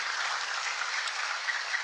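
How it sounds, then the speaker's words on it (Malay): Audience applause at a political gathering in Sabah, a steady even wash of many hands clapping, sustained and fairly close with no pauses. "Berikan tepukan."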